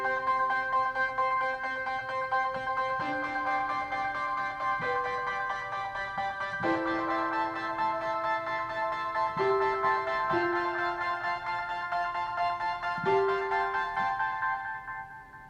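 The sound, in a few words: Distorted Lead ARP 3 synthesizer keyboard patch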